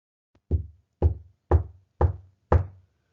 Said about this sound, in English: he heard the knocking sound again